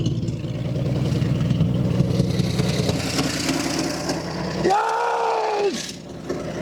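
The engine of a restored vehicle runs close by at a rough, pulsing idle for several seconds, then cuts out abruptly as it shuts down, leaving a brief settling noise.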